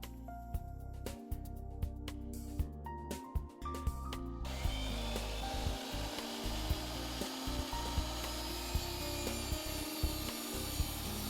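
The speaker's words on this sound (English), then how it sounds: "Set your saw to this angle and miter a molding." A miter saw cuts angled wood molding for an out-of-square wall corner, opening with short intermittent bursts, then a sustained loud whining cut that runs for several seconds with a steady rasping roar.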